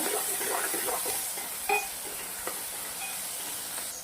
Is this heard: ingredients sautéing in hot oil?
yes